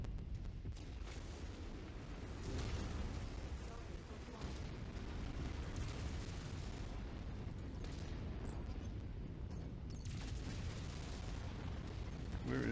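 Mech going critical and exploding in MechWarrior 5, a heavy rumbling blast that rolls into a sustained low roar with scattered booms of nearby gunfire, loud and continuous throughout.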